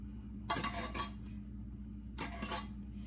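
Cream of mushroom soup is spooned into a crock pot with two bursts of clattering metal-on-ceramic scraping, one early and one later, separated by quiet room hum.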